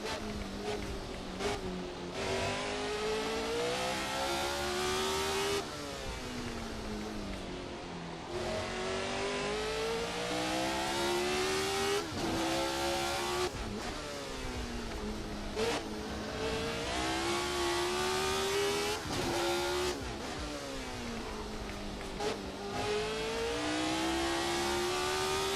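A 1970s Formula 1 race car engine in Assetto Corsa at Montjuïc Park screams continuously, rising through the revs and dropping sharply at repeated gear changes and braking points across the lap, loud and close with no talk.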